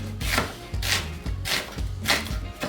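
A knife on a cutting board chops purple onion in steady, evenly spaced strokes, five crisp close thuds about half a second apart.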